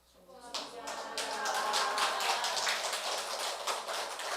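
A church congregation claps steadily in a dense patter of applause during an Easter service, loud and close, with a voice faintly underneath.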